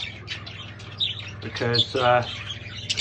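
Pet budgies chirp and squawk in short bright bursts, several birds at close range, while a person speaks over them briefly.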